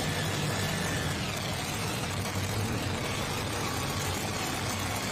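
An AGCO DC-275 pulling tractor from Minerva, Ohio idling at a tractor pulling championship, a steady low engine rumble under broad outdoor noise, unbroken throughout and with no talk.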